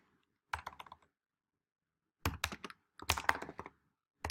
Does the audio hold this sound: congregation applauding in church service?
no